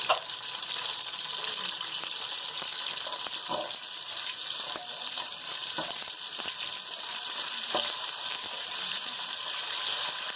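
White cumin seeds sizzling steadily in hot oil in a pan, a dense, even frying hiss with occasional small pops, heard alone and fairly close.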